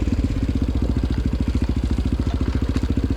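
A quad ATV engine idles steadily nearby, a loud, even low chugging pulse with a rattly mechanical edge, heard alone without voices.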